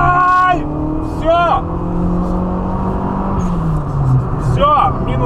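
A car drives alongside at speed, giving a continuous engine and road roar that rises slightly in pitch, with people talking over it in short bursts.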